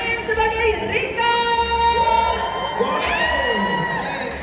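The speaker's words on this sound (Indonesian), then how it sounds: "Kita kasih tepuk tangan yang meriah untuk Reza Nangin sebagai Rika." A crowd at a film gala premiere cheers and whoops loudly, with children shouting and high excited voices rising over a dense, continuous roar of audience noise.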